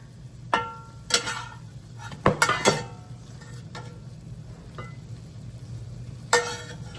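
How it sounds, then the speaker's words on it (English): Cooked chicken in olive oil and juices lifted from a pan into a bowl, with scattered clinks and scrapes of a utensil against cookware over a faint low sizzle, no voices. "I am just going to remove it to a bowl"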